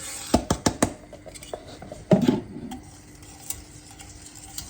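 Cream, sugar, glucose and stabiliser stirred together in a pan while heating for mint-chocolate ice cream: a few sharp utensil taps and scrapes near the start, then a brief clatter, with soft stirring noise under quiet room tone.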